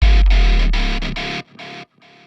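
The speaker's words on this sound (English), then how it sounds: "Sub drop should sound like this." A booming sub drop in an Ableton Live 12 nu metal track, a deep low tone sliding downward beneath loud chopped distorted stabs that stutter and fade toward the end.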